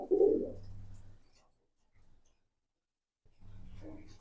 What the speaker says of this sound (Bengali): সবগুলোই পাঙ্খি লাইনের কবুতর